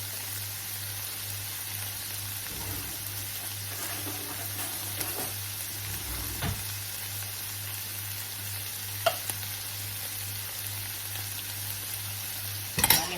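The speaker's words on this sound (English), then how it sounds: "I will let it simmer for a few seconds more" A one-pot quinoa meal simmers in a pot with a faint, steady sizzle and bubbling crackle, quiet and continuous, with a brief clink near the end.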